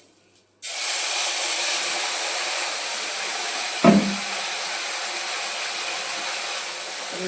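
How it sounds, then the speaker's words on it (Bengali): Water poured into hot spice tempering in a pan bursts into a loud sudden sizzle that holds as a steady hiss, with a brief clatter of a utensil midway. "এই ফোড়নটার মধ্যে আমি এবারে একটু অল্প সামান্য জল দিয়ে দিলাম"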